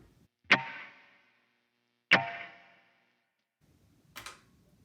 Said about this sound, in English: Here's the reverb.